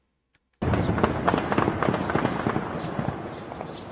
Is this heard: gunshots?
yes